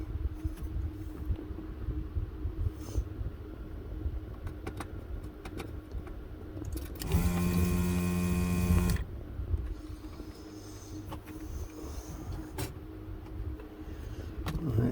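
A desoldering tool pulls solder from the PCMCIA connector of an Amiga A1200 board, a brief two-second whirring, buzzing pump surge rising out of a quiet workbench background.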